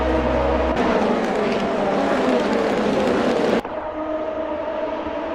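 Race cars roar past at full throttle in a racing video game at Watkins Glen, a dense, loud engine drone with overlapping cars that cuts abruptly to a slightly quieter, steadier engine tone partway through.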